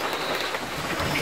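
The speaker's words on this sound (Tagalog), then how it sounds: "lumalakas na naman yung ulan" Rain falls steadily outdoors at an animal sanctuary in Antipolo, growing heavier. It makes a dense, even hiss that fills the whole moment with no talking.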